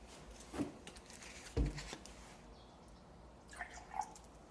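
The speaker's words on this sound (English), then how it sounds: "So let's go ahead and pour water in the intake and watch it leak." Water poured into an intake port on a Ford V10 engine in a 1999-2004 F250 with the head removed, leaking out; faint splashing and dripping in short bursts near the start and again near the end.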